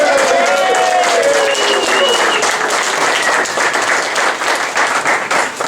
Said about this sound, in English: a round of applause for Stacy as our district coordinator